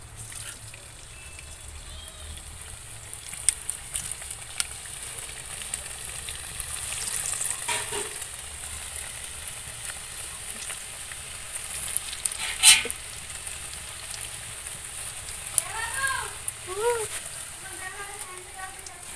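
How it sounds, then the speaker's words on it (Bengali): Kuli pitha frying in refined oil in an iron wok, a soft continuous sizzle and crackle running throughout with occasional louder pops and scrapes, and a voice speaking near the end. "লোহার কড়াইতে রিফাইন তেল দিয়েছি, আর তেলটা অল্প গরম হলে যে কুলি পিঠেগুলো ছাড়তে হবে"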